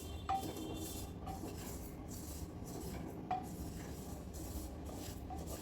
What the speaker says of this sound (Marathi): मंद आचेवर तीळ भाजून घ्यायचे आपल्याला.